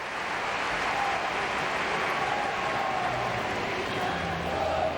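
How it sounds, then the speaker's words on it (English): A crowd in a gymnastics arena at a world championship cheers and claps steadily, a broad roar of applause with scattered whistles and voices, while a commentator's speech runs over it. "The crowd loves it"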